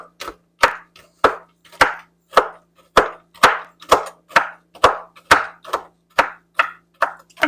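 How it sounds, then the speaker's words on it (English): A big knife chops through macadamia nuts on a board in steady, evenly spaced strikes, each a sharp close knock with a short woody tail, about two per second, with no talk over it. "we're just going to start chopping just like this"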